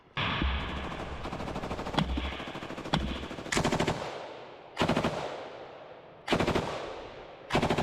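Intense combat gunfire pours out in long, close machine-gun bursts with sharp single cracks between them, each burst stopping abruptly before the next begins.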